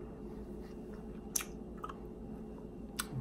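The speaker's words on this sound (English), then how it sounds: "chewing that wax was just no fun at all" Someone quietly chews the wax of a Nik-L-Nip wax bottle candy, with a few soft, sparse crunches and squishes close up against a faint background hiss.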